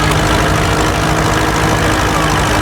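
A vintage Field Marshal tractor with a horizontal single-cylinder engine chugs steadily at a show parade, a loud, close, continuous low thumping idle.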